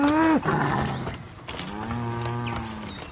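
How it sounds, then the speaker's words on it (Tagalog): A carabao, a water buffalo pulling a cart, gives loud, drawn-out lowing moos close by, one call followed by a longer, sustained second call with no talking. "agad kaming umalis sakay ng kangga na hila ng kalabaw"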